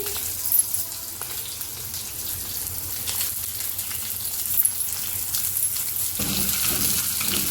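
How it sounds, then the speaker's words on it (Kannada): Chopped medium onion goes into a hot pan already holding cumin and curry leaves for avalakki uppittu, bringing a steady, rain-like crackle of sizzling that swells slightly near the end, with no talk. "ಈಗ ಒಂದು ಮೀಡಿಯಮ್ ಸೈಜ್ ನೀರುಳ್ಳಿ ಕಟ್ ಮಾಡಿಟ್ಟಿದ್ದೆ ಅದನ್ನು ಹಾಕ್ಕೊಳ್ತಾ ಇದ್ದೀನಿ."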